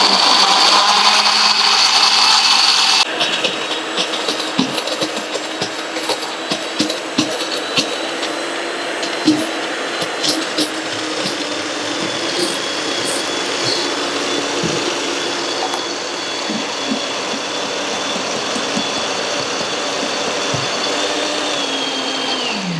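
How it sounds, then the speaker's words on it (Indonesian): An electric blender grinds a wet spice paste with water, its motor roaring loud and close in a continuous whine for over twenty seconds with small rattles throughout. "Kita masukin ke dalam blender ya."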